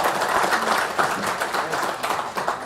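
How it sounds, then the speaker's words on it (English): Audience applause fills a trade show hall at a veterans and small business summit, steady dense clapping from a crowd, loud and continuous without speech. "Please give yourself a round of applause."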